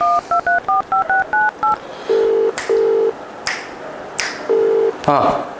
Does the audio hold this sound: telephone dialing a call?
yes